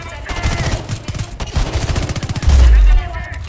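Gunfire rattles in Homefront The Revolution, rapid bursts of automatic shots in quick succession, with someone talking over the shooting throughout.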